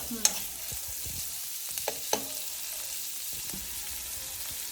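Mutton keema with mint and coriander fries in a pan, village style, a steady sizzle broken by a few sharp scrapes and clatters of stirring.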